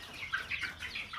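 Laotian farm chickens cluck softly, a few short overlapping clucks and chirps at moderate distance, faint and brief, with no voices.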